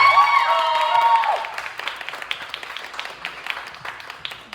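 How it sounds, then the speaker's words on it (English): An audience at an open-mic poetry night claps and cheers; a whoop rings out at first, then the crowd noise eases into scattered, sharper individual claps that trail off toward the end. "Let's clap."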